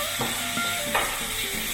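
Green chilies sauteing in a pan for a spicy corned beef masala, a steady close sizzle with a few soft stirring scrapes and light knocks over the hiss.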